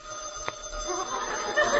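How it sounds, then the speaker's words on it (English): A telephone bell sound effect from a 1948 Burns & Allen radio comedy rings once, brief and fairly faint, in a busy mid-range room tone. "The phone's ringing."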